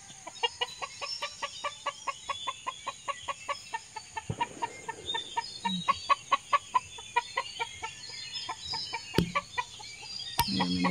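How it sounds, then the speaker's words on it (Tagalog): Brooding hens in a small chicken coop, one of them laying: a steady series of soft, close, rhythmic clucks, repeated about twice a second, with a few brief knocks near the end. "Ayan, may naglilimlim tayo. At may nangingitlog po tayong isa dyan."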